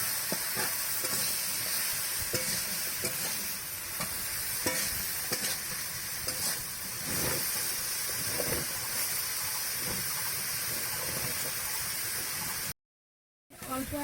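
Mourala fish mixture stirred in a sizzling pan: continuous hissing fry with scraping stir strokes at a moderate level, broken by a brief silent gap near the end.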